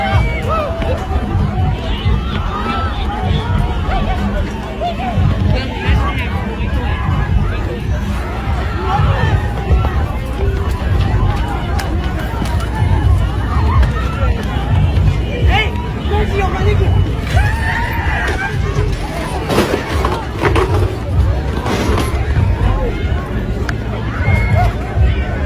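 Crowd hubbub at the Astroworld concert, a dense, loud, continuous babble of many voices with scattered shouts and movement that never lets up.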